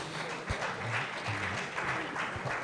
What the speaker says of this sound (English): Please, can we give the sponsors a round of applause